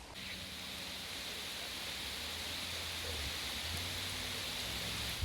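Steady rain falls beside a river during a thunderstorm, a dense, even hiss with low rumbling underneath that stays constant throughout.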